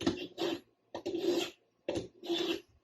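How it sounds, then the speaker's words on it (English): A knife is sharpened while a white-tailed deer is prepped for taxidermy, heard as three pairs of quick rasping strokes, close and quiet, with short silences between them. "sharpen my knife"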